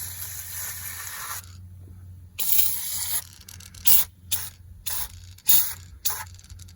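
Short hissing sprays of foaming cleaner onto the AC condenser of a 1993 Toyota Camry, several quick bursts after a longer initial spray, with a low steady hum underneath.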